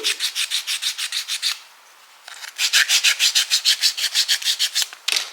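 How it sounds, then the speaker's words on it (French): A hand file rasps back and forth over a small wooden piece from a bouquet kit, a fast even series of close, loud strokes, pausing briefly before resuming in the same rhythm. "Donc on va repasser un coup de lime."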